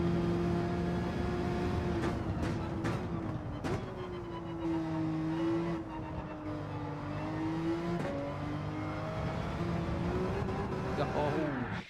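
Race cars in a BMW-versus-Porsche battle on a straight, with engines droning and revving in shifting pitch, a few gear-change bursts and passing swells, heard under a person talking.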